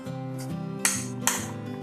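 A spoon stirs aloo basket chaat stuffing in a bowl with a pinch of salt, green chutney and date-tamarind chutney, giving a soft steady scrape broken by two sharp metallic clinks against the bowl.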